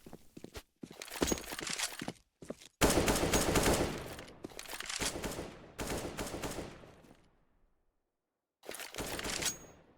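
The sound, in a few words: AK-47 rifle gunfire in the video game CS:GO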